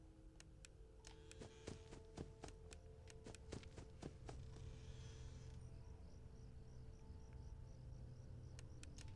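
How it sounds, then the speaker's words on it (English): Cricket chirping ambience from the video game Five Nights at Freddy's 4: soft, steady pulsed chirps in the background, with scattered sharp clicks and taps over a low hum. "the cricket sounds sort of go, like, play over the breathing"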